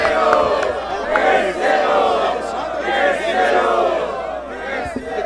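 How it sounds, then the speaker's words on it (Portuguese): Crowd at a Brazilian freestyle rap battle in Barueri, São Paulo, cheering and shouting loudly with applause mixed in, a dense continuous roar of voices for several seconds. "Cadê as palmas"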